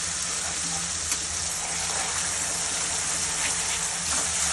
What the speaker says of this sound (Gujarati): તમે જોઈ શકો છો ટામેટાં આપણા હવે થોડા સંતળાવવાના।